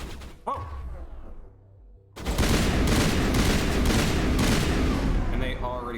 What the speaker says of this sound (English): I'll just stick with my assault rifle for a second